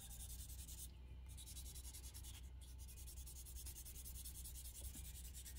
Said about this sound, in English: I put the Tamiya glue on it and I start sanding it before it completely